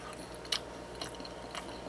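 Three quiet, crisp crunches spaced evenly apart, like someone biting and chewing a crunchy fish-paste snack up close.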